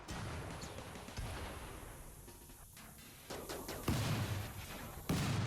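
Several sharp bursts and pops of fire foam poppers in quick succession within a busy RimWorld game soundscape, with a few louder thumping blasts near the end.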